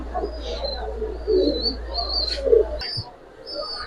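Jabra silver racing pigeons coo and chirp close by, a few soft rising calls and brief tweets repeating over a low steady hum, with no talk.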